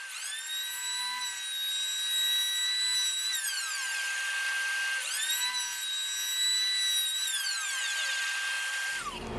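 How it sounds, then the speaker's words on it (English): A power planer whines loudly along the edge of poplar boards in two long continuous passes, the high motor pitch holding steady through each cut and dropping away at the end of each pass. "I just finished planing off that one edge, and there's no gaps"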